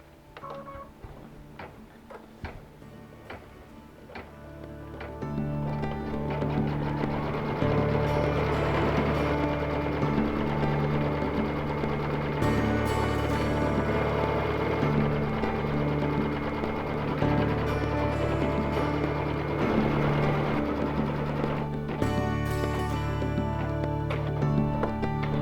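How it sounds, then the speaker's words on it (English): An embroidery machine stitches fabric down in its hoop, a steady fast mechanical chatter that starts softly and then runs loud and even throughout. "Now we'll let the machine tack this fabric down."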